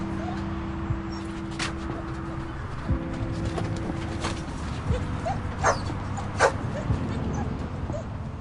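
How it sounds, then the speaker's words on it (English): Several dogs bark, yip and whimper at a veterinary practice, with sharp bursts scattered over a busy, noisy room and a low steady hum underneath. "the 4 healthy dogs arrive at Paul's practice"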